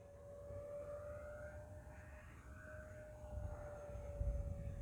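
A Horizon Hobby F-15 Eagle 64mm RC jet flies past at speed, a steady, thin whine held over a faint, rumbling roar that swells slightly toward the end, heard at a distance.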